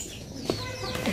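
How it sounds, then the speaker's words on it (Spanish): A rooster on a farm gives a few short clucks, fairly close, amid quiet outdoor background noise. "Bien chulo ese gallo, ¿verdad?"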